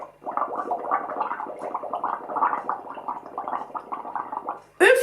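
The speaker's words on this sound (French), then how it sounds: "le but, c'est de souffler dedans pour faire des grosses bulles jusqu'ici" Air blown through a straw into a liquid makes big bubbles, a steady bubbling gurgle that runs nearly five seconds close up and stops with a brief sharp noise at the end.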